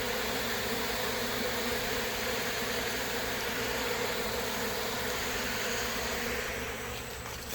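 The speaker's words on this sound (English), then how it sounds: "everybody else is out front posturing because, well, we got a swarm" A honeybee swarm in September hums in a dense, steady drone, loud and close, with the queen on the ground nearby; the buzzing holds almost unbroken and eases slightly near the end.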